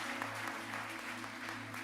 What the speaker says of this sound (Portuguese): Vamos aplaudir Jesus por esse texto?